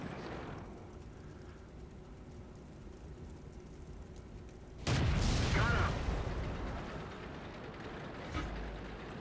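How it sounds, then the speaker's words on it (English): Artillery fire in the World of Tanks video game: a sudden heavy boom at the midpoint that decays over a second or two, over a steady low rumble of battle noise, with a smaller thump near the end. "Oh, there's artillery."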